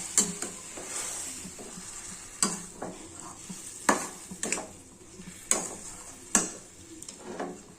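Madhuri pak, a coconut sweet mixture, is stirred in a pan over a soft sizzle, with a spoon scraping and knocking the metal in repeated sharp clacks every second or so.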